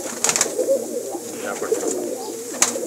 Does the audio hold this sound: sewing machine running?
no